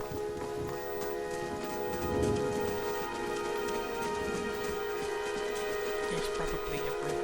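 Steady rain falls at night in the fantasy role-playing game Pillars of Eternity, a continuous close hiss of drops that runs unbroken through the whole stretch, with a voice talking over it at times.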